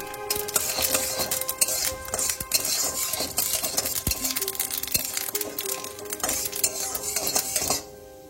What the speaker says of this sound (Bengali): তেলটা গরম হয়েছে, এবার আমি লাল শুকনো লঙ্কাটা দিয়ে একটু নেড়ে নিচ্ছি।